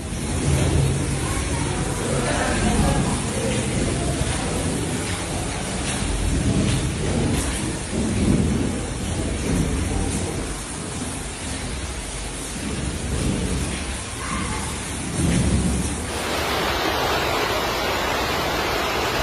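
Heavy rain pours steadily during flash floods in Badalona, Spain, with low thunder rumbling underneath and a dense wash of water and traffic noise throughout, loud and continuous.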